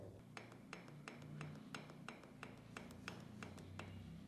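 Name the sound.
loose piston knocking in motorcycle engine cylinder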